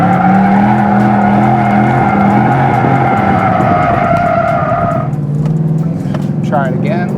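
A Mustang GT launching hard from first gear, its engine roaring loudly and steadily as the tires squeal, with the engine note dropping near the end and a voice speaking over it.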